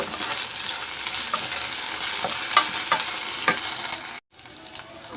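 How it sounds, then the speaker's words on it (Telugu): Ginger garlic paste fries with onions in a pan, giving a constant sizzle and repeated scraping stirs of a utensil. The sound drops out briefly near the end, then the frying resumes. "ఇప్పుడు ఇందులో మనం కొద్దిగా అల్లం వెల్లి పేస్ట్ వేస్తాం నేను కూడా బాగా ఫ్రై చేస్తాను"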